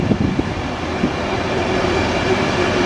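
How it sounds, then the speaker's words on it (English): Class 91 Virgin Trains East Coast electric train departing Stevenage on the East Coast Main Line, a loud, steady rolling rumble with a few short wheel clicks early on, building slightly. "now departing is a Class 91 Virgin Trains East Coast service to London King's Cross"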